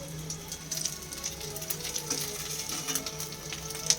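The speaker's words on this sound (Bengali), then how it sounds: "এখন হালকা হালকা করে ভাজতে হবে।" Paneer pieces sizzle and crackle steadily in hot oil, a soft continuous hiss with small pops throughout.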